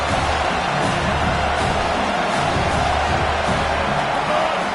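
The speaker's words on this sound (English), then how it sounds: "The crowd getting behind this defense as they try to get a stop in the red zone." A stadium crowd roars steadily at a college football video game, a loud, dense wall of cheering that holds without a break as the home fans urge on the defense near the goal line.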